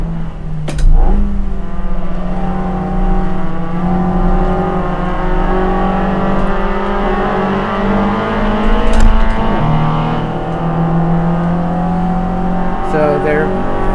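Spec Miata race car engine in a VR racing game at Harris Hill, a steady high-revving drone with gear shifts and brief dips as the car laps, loud and continuous alongside other cars.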